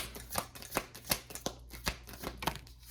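Tarot cards being shuffled in quick, crisp riffles, a burst every few tenths of a second, close and clear with no talking.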